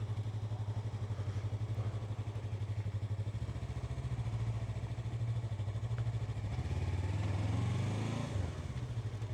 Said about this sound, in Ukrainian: Такий приємний легкий мотоцикл. Дуже тихо, м'яко працює.